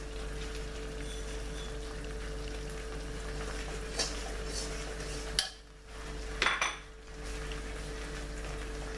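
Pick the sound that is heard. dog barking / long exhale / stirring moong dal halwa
stirring moong dal halwa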